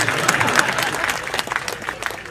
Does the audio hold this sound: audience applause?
yes